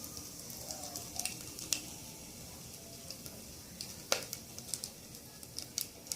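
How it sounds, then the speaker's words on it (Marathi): Whole spices dropped into hot oil for chicken pulao, a soft sizzle with scattered sharp pops and crackles spread irregularly, fairly quiet and close, no voices. "हे सगळे खडे मसाले आपण तेलामध्ये टाकून घेऊया हे चांगले ना फ्राय करून घ्यायचे"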